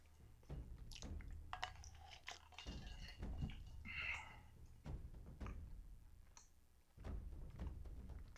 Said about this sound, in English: I'm like a zoo animal here, just chewing.